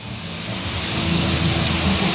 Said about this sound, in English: It's a giant rain curtain.